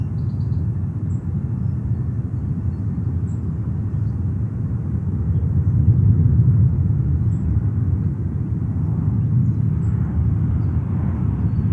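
Boeing 777-300 airliner at New York's JFK airport, a steady loud low jet rumble that swells slightly midway, with no voices.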